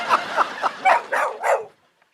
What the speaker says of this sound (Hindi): क्यों भौंक रहे हो भाई?